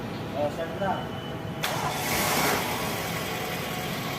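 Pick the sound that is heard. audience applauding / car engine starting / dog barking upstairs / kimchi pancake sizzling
car engine starting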